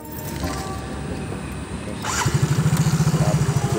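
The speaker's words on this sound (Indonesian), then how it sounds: "Caranya kita hidupin motornya." Motorcycle being started during carburetor cleaner use: a quiet stretch with faint rustling, then the engine catches and settles into a loud, rapid, even idle thump up close.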